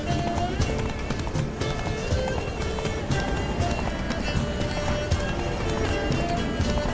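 Hooves of Roach, Geralt's horse in Witcher 3, galloping in a fast continuous clip-clop rhythm over game ambience, loud and steady throughout.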